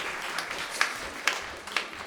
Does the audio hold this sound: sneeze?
no